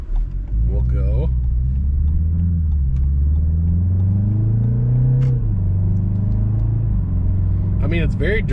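A 2020 BMW 330i xDrive in sport mode accelerates, its exhaust a steady low drone that climbs in pitch, then settles. Someone talks over it throughout.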